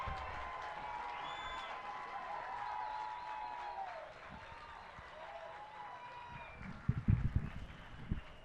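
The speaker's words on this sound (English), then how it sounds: "sometimes you let the applause speak for itself" Spectators at an FC Tucson versus Frontera United soccer match applaud in a steady, distant crowd wash, with a few louder, closer claps and thumps near the end.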